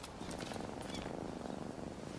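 A cat purrs in the video game Rise of the Ronin, a soft, steady, rhythmic rumble that holds close and quiet from start to finish.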